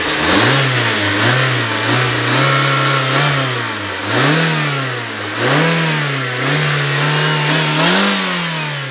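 Mazda engine revving repeatedly through a throaty sport exhaust, pitch rising and falling in smooth swells between steady idling, loud and close.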